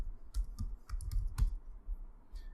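Quick, light clacking of computer keyboard keys typing a web address, in short uneven bursts with brief pauses, close and fairly quiet, no voices.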